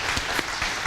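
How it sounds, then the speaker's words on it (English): A congregation at a church service claps for a speaker, a brief, soft patter of scattered hand claps with a few louder individual claps standing out. "let's some applause for Ida on our virtual campus"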